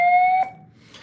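A fire alarm demo board sounds its evacuation tone, a sharp steady electronic beep lasting under half a second, followed by quiet and then a faint second burst.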